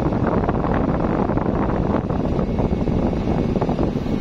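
A TCL TAC-06CWM/F window air conditioner blows air with a loud, continuous rushing noise that wavers slightly, heard alone without any talking.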